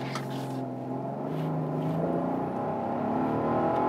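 Rolls-Royce Cullinan SUV accelerating hard from a standstill after being put in drive, a loud, steady engine roar rising in pitch throughout, close and continuous with no talk over it.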